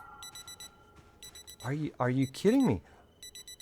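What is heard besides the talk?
watch alarm going off in the video game Project Zomboid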